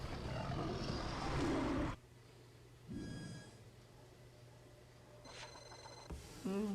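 Marsupial lion in the video game Jurassic World The Game lets out a loud, rough roar, then falls quiet apart from a brief growl and a few faint electronic chimes from the game.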